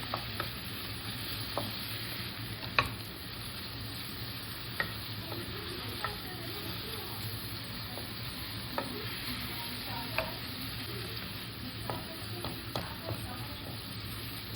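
Carrots with sugar and raisins caramelizing in a pan give a quiet, steady sizzle, with occasional light ticks and taps of stirring breaking through at irregular intervals.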